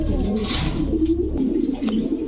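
Several active pigeons of the Beauty, King and Lahori breeds coo in short low bursts, close by, with a sharp rustle near the start.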